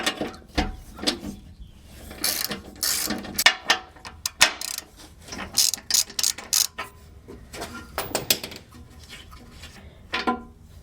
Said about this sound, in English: the bracket's going to attach to these two bolts, so we need to remove them from the bumper